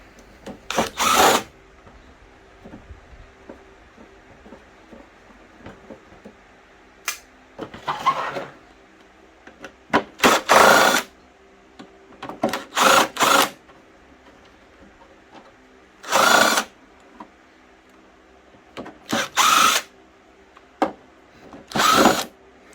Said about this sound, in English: So let's start taking the screws out of the back here.